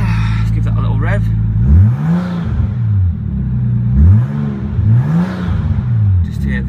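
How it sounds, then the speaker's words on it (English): An R33 Nissan Skyline's engine idles low, then is blipped in three sharp revs that rise and fall, heard from inside the car, loud and close. "let's sit inside, let's give that a little rev"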